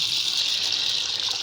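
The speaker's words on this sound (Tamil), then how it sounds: "1/4 கிலோ கடலை பருப்பு போட்டு தேவையான அளவு தண்ணி ஊற்றணும்." Water pouring steadily into a vessel holding a quarter kilo of chana dal for Tamil-style aamai vadai, a continuous close gushing splash with no voices.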